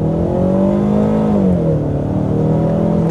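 A Ford Mustang's 2.3-litre four-cylinder engine revs up loudly and steadily up close, its pitch rising then easing back down over a few seconds, with no talking.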